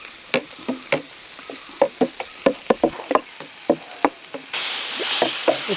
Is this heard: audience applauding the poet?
no